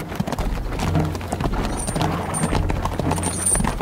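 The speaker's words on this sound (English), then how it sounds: "We have to keep Agamemnon in the carriage." Horse hooves clip-clop steadily as they draw a carriage, a close, continuous rhythmic clatter running the whole time alongside faint bird calls.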